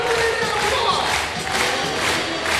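A crowd at a basketball game, the Australian NBL Grand Final in Perth, cheers and roars loudly after a missed shot, a sustained mass of voices with some shouting.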